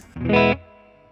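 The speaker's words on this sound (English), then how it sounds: "Let's hear a bit of the spring reverb from the amp." Electric guitar played through an amp's spring reverb, a single short chord struck, held briefly, then cut so the springy reverb tail rings out and fades on its own.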